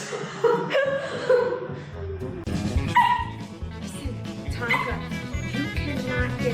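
A playful puppy barks and yips in short bursts, close and fairly loud, with whimpers mixed in and a soft chuckle in the background.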